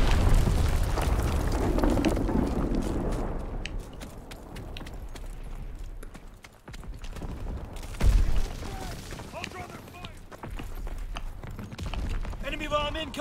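An Azon bomb goes off in a WW2 shooter, heavy booming rumble and debris noise spread over a long battlefield stretch, with a sharp impact midway and talk running over it.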